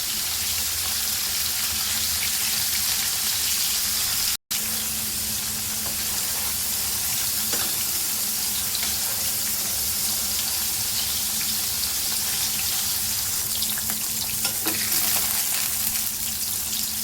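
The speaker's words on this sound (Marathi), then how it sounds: "पनीर आपल्याला तेलामध्ये तळून घ्यायचे आहे." Paneer frying in oil in a pan on a gas stove gives a steady, fairly loud crackling hiss that runs unbroken, apart from one very brief dropout, with no talking.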